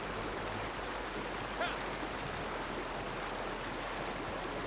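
Rushing river water in Red Dead Redemption 2 Online, a steady broadband flowing wash heard while riding across, with a brief faint clink partway through and no talking.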